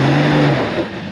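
Off-road vehicle engine revving on red rock: a loud, close, brief engine roar holding a steady pitch for about a second and then easing off.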